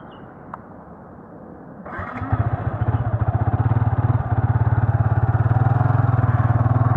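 A motorcycle revs hard for a drag start, clutch and throttle worked together, the engine jumping from a low idle to a loud, steady pulsing roar that holds close and continuous.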